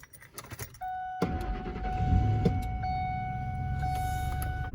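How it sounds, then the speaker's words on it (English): A 2002 Ford F-150 V8 being started: a key jingle and a brief crank, then the engine catches and settles into a steady, close, rumbling idle with a faint high whine. "you need to start your vehicle and let it warm up"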